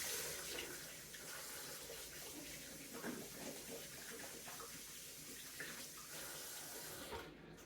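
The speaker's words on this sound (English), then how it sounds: "so just wash my hands" Tap water runs steadily into a kitchen sink while hands are washed during homemade pizza making, a faint continuous splashing stream.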